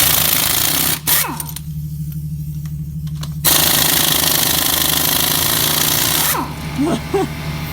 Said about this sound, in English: we've been using an air impact and a tiny compressor